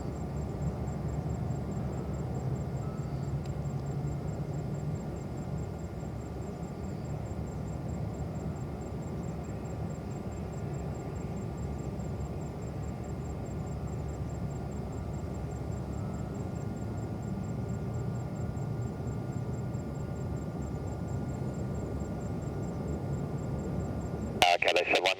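A distant airliner landing on runway 07 right at Hong Kong airport, a continuous low engine rumble and hum under air traffic radio chatter, with a brief louder burst at the very end.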